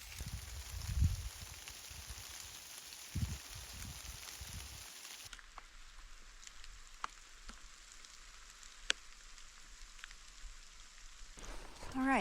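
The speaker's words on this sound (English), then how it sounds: "It started raining on us" Rain falls steadily on a rocky trail in Cedar Mesa, Utah, heard from shelter under a big rock overhang: a dense hiss with close drips and patters, loudest for the first five seconds, then a softer, even patter with occasional sharp drops.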